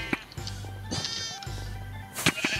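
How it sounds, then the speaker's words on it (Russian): Minecraft sheep bleat in a few short cries during a sheep-catching mini-game, mixed with other game sounds and a brief louder burst near the end. "Нести эту несчастную овечку."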